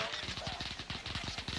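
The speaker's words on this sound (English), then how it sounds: "somebody's shooting." Rapid bursts of automatic gunfire fill a Call of Duty Warzone match on Rebirth Island, quick rhythmic cracks that are moderately loud and unbroken through the moment.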